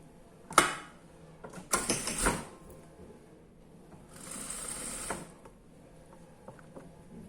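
A sewing machine stitches a sleeve onto a small doll's coat in short bursts, its mechanical whir and clatter starting and stopping several times between quieter handling sounds.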